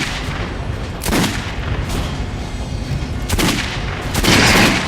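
Gunfire aimed at an armoured target dummy on a shooting range in the video game Metro: Last Light: a few loud, sharp shots with echoing tails, spaced about a second or more apart, with no talking.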